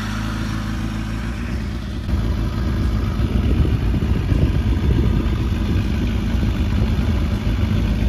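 A Kawasaki Ninja ZX-9R with a coolant leak idles steadily close by, a low continuous engine rumble that grows slightly fuller after the first couple of seconds, with no talking.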